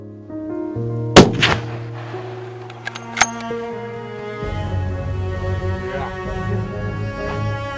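A hunting rifle shot rings out in the Swiss Alps: one loud sharp crack near the start and a second fainter report a couple of seconds later, over a steady tonal hum with no talking.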